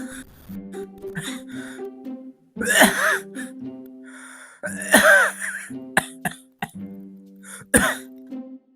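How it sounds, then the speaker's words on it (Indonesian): A few rough, raspy coughs and throat-clearing bursts break out between quieter vocal sounds, close and fairly loud. "batuk."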